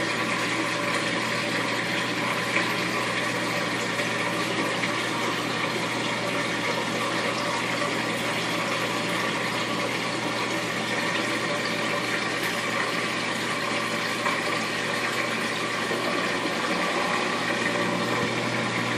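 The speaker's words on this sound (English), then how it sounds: "Now it's in the spinning cycle" Magic Chef washing machine finishing its drain and moving into the spin cycle, with a steady close hum of pump and motor over rushing water running unbroken throughout.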